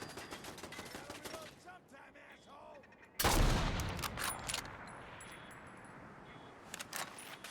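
Gunfire in Fallout 4 bursts out suddenly partway through, a loud crack and burst of shots after quieter rustling and faint rattling sounds, then rings off into lighter clatter.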